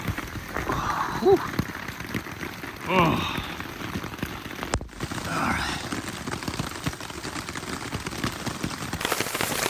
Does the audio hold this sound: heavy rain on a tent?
yes